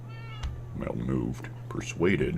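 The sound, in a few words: cat meowing in Minecraft video game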